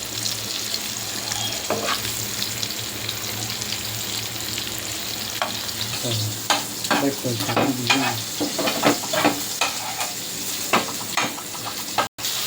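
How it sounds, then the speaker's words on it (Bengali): Onion frying in hot oil, a steady close sizzle that grows busier with irregular spatula scrapes and stirs partway through, then a short abrupt cut near the end. "এখন তেলে দিয়ে দিলাম, তেলের মধ্যে পেঁয়াজ দিয়ে দিলাম"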